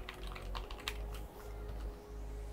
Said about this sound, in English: just press the enter key on the keyboard and it brings you down